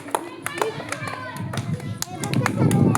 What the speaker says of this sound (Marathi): हा चल टाळ्या वाजवा ना